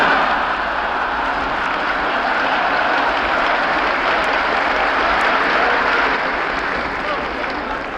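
An audience in the chamber of Congress applauds during John Glenn's speech, a dense, even wash of clapping held steady for several seconds with a murmur of voices underneath.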